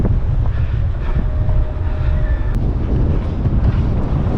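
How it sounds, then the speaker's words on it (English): Strong wind buffeting the microphone outdoors at a lighthouse in Hope Town, Abaco, a loud, continuous low rumble and roar with no pauses. "Ooh, it's windy."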